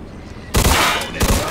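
Gunfire erupts in the Mafia II mob game: after a quiet moment, a loud burst of rapid shots rings out close by, then a second volley follows a beat later.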